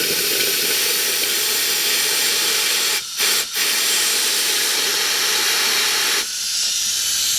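Compressed air blasts steadily through a boat's transmission cooler lines during a Velvet Drive gearbox replacement, a loud continuous hiss broken by two brief gaps and then a slightly softer stretch of blowing.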